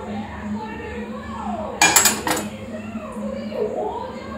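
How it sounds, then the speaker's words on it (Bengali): Onions are added to a cooking pan, making a brief loud clatter and sizzle-like burst in the middle of the clip over steady background hum, with a person talking around it. "এখন পেঁয়াজগুলো দিয়ে দিব।"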